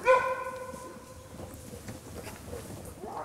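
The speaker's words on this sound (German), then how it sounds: "Das ist das Bellen eines Wolfes, was wir jetzt gerade gehört haben." A wolf gives a short bark as a warning call, a bright harmonic burst in the first half-second that fades into quiet outdoor background with no speech.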